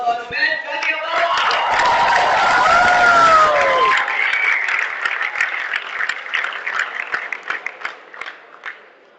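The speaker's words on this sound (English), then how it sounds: "Ladies and gentlemen, a huge round of applause for Umair Jaliawala!" A TEDx audience in Karachi bursts into loud, dense applause that holds steady, then thins into scattered individual claps as it tapers off, with a voice briefly heard over the start.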